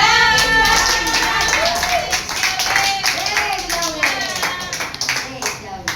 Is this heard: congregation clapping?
yes